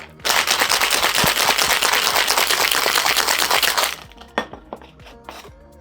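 A cocktail shaker holding ice and egg for a Negroni sour is shaken hard, a loud, rapid rattling of ice lasting several seconds, then a few separate clinks and knocks as it stops.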